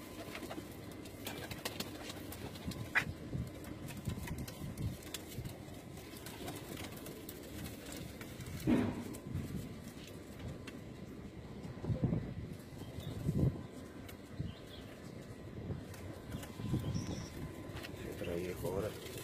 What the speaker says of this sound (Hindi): बड़े सिलेक्टेड से कबूतर हैं जी इनके पास उड़ने वाले